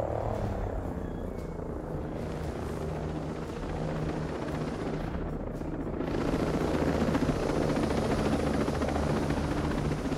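In the video game Ghost Recon, a helicopter holds overhead with a steady, dense rotor rumble that stays loud throughout and swells slightly in the second half.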